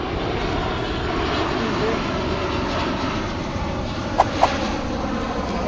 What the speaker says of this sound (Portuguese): Temos o aeroporto perto, sempre aviões a passar.